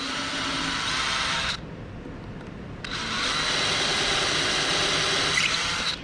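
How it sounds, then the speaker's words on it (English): A power drill whines steadily, stops briefly for about a second, then spins up again and keeps drilling hinge screw holes at close range in a small cedar chest. "Gonna drill the last 2 in each hinge."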